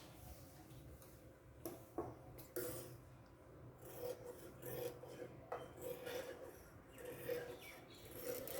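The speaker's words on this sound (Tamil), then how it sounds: "இப்போ இந்த ஷேப்புக்கு நம்ம அப்படியே உள்ளே இருக்க கிளாத்தை கட் பண்ணி எடுத்துடலாம்" Scissors cut cloth along a kurti neckline. Quiet, scratchy rubbing and snipping repeats at an uneven pace, close and faint.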